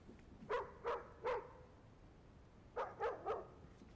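Dogs in the survival game DayZ bark in two quick sets of three, spaced about two seconds apart, moderately distant over a quiet background hiss.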